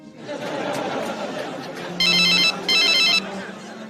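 A telephone rings in two sharp electronic bursts over a low murmur of background chatter and room noise, the second burst following closely after the first.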